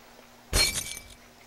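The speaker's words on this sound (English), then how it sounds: "Glass break hard." Glass shatters once in the Happy Wheels video game, a sharp crash followed by a brief tinkling decay, heard alone and close.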